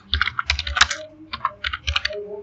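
Quick keystrokes on a computer keyboard while HTML code is being written, coming in close, crisp clusters of clicks with brief pauses between them.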